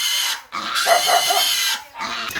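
A pig grunts in several rough bursts separated by short pauses, close and fairly loud, with no talk over it.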